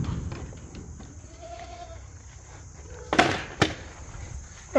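Goats in a barn on a small homestead, a faint wavering bleat rising midway over low rustling and shuffling, then a couple of sharp knocks near the end.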